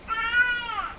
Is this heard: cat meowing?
yes